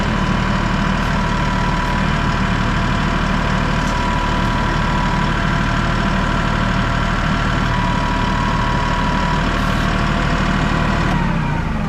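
A Massey Ferguson 1E.40 compact tractor engine idles steadily up close, a constant droning hum with a faint knocking texture that continues unchanged throughout.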